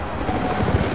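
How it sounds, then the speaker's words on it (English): Helicopter approaching in the video game Rise of the Tomb Raider, a loud rumbling rotor chop with dense low thumping, heard in a brief close burst without speech. "helicopters are headed your way"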